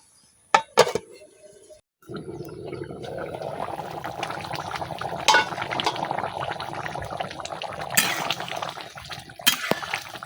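Beef curry with spices cooking in a covered pot, a soft steady bubbling simmer after a few clinks of the lid at the start, close and fairly quiet with occasional knocks.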